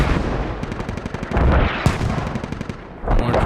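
Mortar and gunfire from a Squad competitive match on the Chora map: a dense, rapid crackle of shots runs throughout, with heavier booming impacts near the middle and the end.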